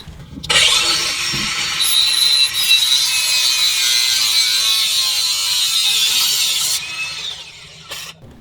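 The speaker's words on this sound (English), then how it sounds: "So we're going the weight reduction way and taking a grinder, holding said bracket," An angle grinder cuts steadily through a metal bracket on a 2019 Toyota Tacoma, a loud continuous high-pitched whine that holds for several seconds before stopping abruptly, with a brief clatter at the end.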